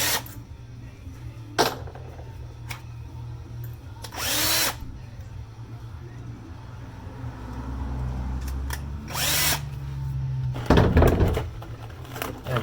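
A cordless drill drives self-tapping screws into a truck tonneau cover. Short close whirring bursts come in several separate spurts with pauses between them, and a louder grinding run sounds near the end.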